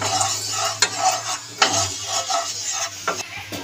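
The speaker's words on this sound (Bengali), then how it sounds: "একটু নাড়িয়ে এই ঘিটা গরম করে নেব" Ghee heats in a wok while a spoon stirs it, giving a faint sizzle with several sharp scrapes and taps of metal against the pan, close by.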